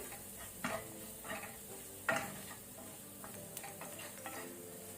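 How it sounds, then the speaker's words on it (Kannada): Onions and chili powder frying on a low flame for sweet corn masala, stirred with a spoon that scrapes and taps the pan in a loose rhythm over a quiet, steady sizzle. There is no talking. "ಅದನ್ನು ಸಹ ಲೋ ಫ್ಲೇಮ್ ಅಲ್ಲಿ ಸ್ವಲ್ಪ ಸ್ಟರ್ ಮಾಡಿ."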